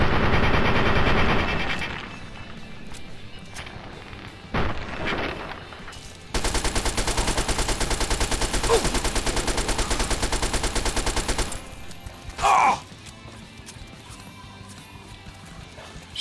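A gun in Fallout 3 fires in loud rapid bursts, a long stretch of rattling automatic shots broken by shorter volleys and pauses, with game effects in between.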